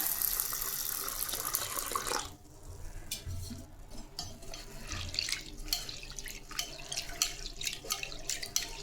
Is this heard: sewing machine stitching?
no